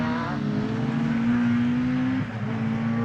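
Rallycross cars, including an MG Metro 6R4, race nose to tail on a wet, muddy track at Pembrey, a loud continuous engine drone with a steady high note that shifts briefly near the end as the cars pass close by.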